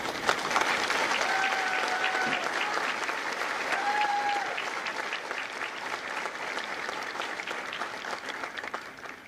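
A crowd at a Marine Corps recruit graduation ceremony for India Company at MCRD San Diego applauds steadily for nine seconds, a dense wash of clapping with a few whistles rising above it.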